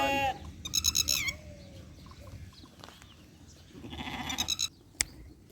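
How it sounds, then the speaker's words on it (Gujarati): Dumma breed sheep bleat in a few short, wavering calls, close and fairly loud, with quieter outdoor noise and faint activity between the calls. "ડુમન નસલનું આ સીપ મીન્સ કે ઘેટું છે"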